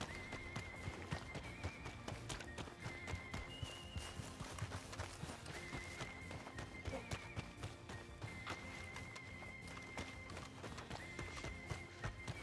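A horse in the Goldrush RP video game trots with quick, steady clip-clop hoofbeats and occasional whinnies, faint and continuous with a busy game background.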